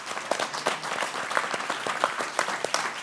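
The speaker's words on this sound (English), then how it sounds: "we've allowed people to clap" Observers at a US House Foreign Affairs Committee hearing on human rights in South Asia clap in a hearing room, a short burst of crisp, uneven applause from a modest crowd, fairly close and continuous.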